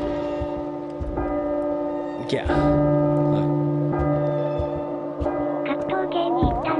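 A bell rings in the horror game P.T., sustained metallic tones with steady harmonic overtones that ring on through the whole stretch, while a man briefly exclaims and speaks over it.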